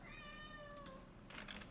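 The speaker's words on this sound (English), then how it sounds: "Apologies for my cat." A house cat meows faintly in a quiet room, one drawn-out rising-and-falling cry, with soft computer keyboard taps nearby.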